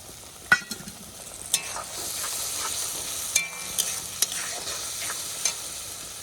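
Water from a rinsed bowl poured into a sizzling fish curry in a pan, a sustained hiss that swells after a few sharp clicks, with occasional light utensil taps and no talk.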